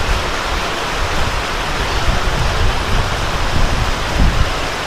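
Heavy, unbroken rain pours down outdoors in Nashik, a dense steady hiss at close range with no talk and no pauses.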